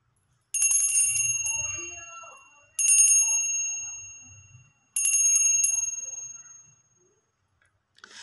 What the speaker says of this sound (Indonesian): kita akan melanjutkan dulu dengan tanda lonceng berbunyi untuk memulai suatu kata